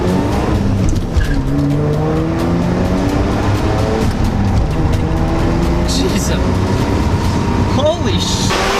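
A 1990s Mazda FD RX-7 with a twin-turbocharged Wankel rotary engine, revving hard with a buzzing, rising note that repeatedly climbs in pitch, loud and continuous.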